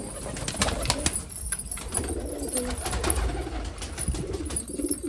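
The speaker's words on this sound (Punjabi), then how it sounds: "ਲਓ ਜੀ ਕਬੂਤਰ ਲਿਆ ਇੱਕ" Pigeons coo softly and repeatedly at close range, with some wing flapping and shuffling mixed in.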